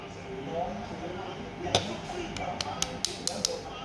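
Light metallic taps as a fuel injector filter is knocked into a Toyota Camry ACV40 injector, a single tap then a rapid series of sharp clicks, heard close while someone talks.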